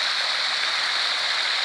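Rushing, splashing water from a fountain with a nymph statue in Gemona, a continuous bright roar of gushing spray at steady high volume, close by and alone.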